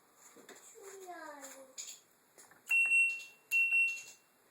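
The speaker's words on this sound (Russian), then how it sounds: "Вода не сливается, машинка пикает." An LG F80C3LD washing machine, stuck with water not draining, gives two loud electronic beeps in succession after a stretch of quieter sounds including a voice.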